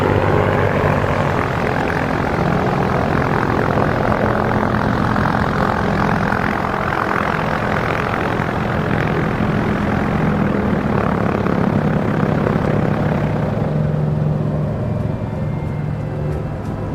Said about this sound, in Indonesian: Suara baling-baling yang berputar menandai dimulainya babak baru transportasi di Nusantara.